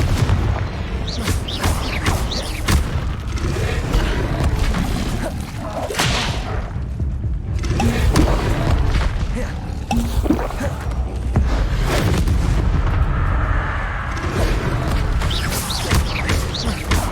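In Hogwarts Legacy on PS5, the Confringo spell sets off a loud, continuous barrage of booming fiery blasts with whooshes and whip-like cracks, heavy and close throughout.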